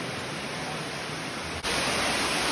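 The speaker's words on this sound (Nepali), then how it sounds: "ओ माई गॉड यो त चाहिँ पानी है" Water flowing inside a large cave in Okinawa, Japan, a dense, continuous rushing hiss that stays loud and unbroken throughout.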